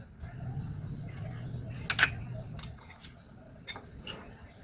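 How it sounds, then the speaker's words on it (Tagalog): A utensil stirring sweet and sour sauce made with sugar and salt in a bowl, with light clinks and scrapes and one sharper clatter, soft and close, as a voice talks quietly underneath. "Mix lang natin."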